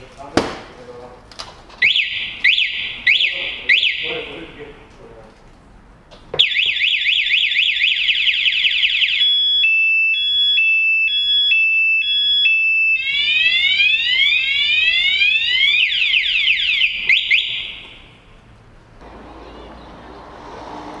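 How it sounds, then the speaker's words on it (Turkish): A loud motorcycle alarm on a 2021 Motolux Rossi RS 50 blares in rapid repeating chirps and warbling sweeps, preceded by a few short warning beeps, then cuts off. "Motoru salladığınız an alarm açıkken önce bir 2-3 kere ötüp sizi bir şöyle bir uyarıyor."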